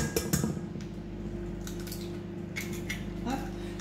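Eggs are whisked in a bowl with a utensil, giving brisk clinking and tapping against the bowl's sides, fairly close and moderately quiet over a low steady hum.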